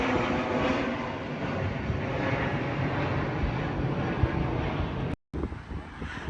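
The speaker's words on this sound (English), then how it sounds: "Somebody coming into land at Birmingham Airport." An airplane coming in to land at Birmingham Airport, heard from a rooftop as a steady broadband engine roar mixed with wind buffeting the microphone, with a brief dropout near the end.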